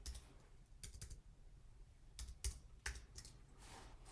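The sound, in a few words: typing on a computer keyboard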